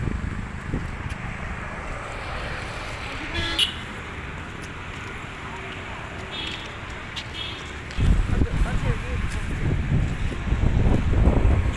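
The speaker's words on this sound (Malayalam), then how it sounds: "പിന്നെ ഇവിടെ ഭയങ്കര കാറ്റാണ് കേട്ടോ" Strong wind buffets the microphone at an outdoor spot in rainy weather, a steady roar that surges louder near the end, with a distant car horn and faint road traffic.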